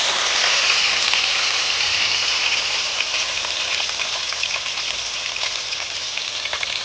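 Chopped tomato hits hot oil already sizzling with whole spices — bay leaf, dried chilli, cinnamon, cardamom and cloves — giving a loud, steady, close frying hiss with crackling pops throughout and no talking.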